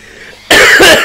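A single sharp, loud cough bursts in close to the microphone after a moment of quiet room noise.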